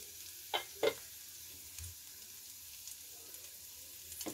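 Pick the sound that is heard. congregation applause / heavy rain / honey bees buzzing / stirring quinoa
stirring quinoa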